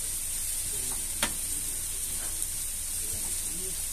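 Ground cardamom and spices stirred in a hot frying pan, a soft steady sizzle with faint scraping and a single sharp tap partway through.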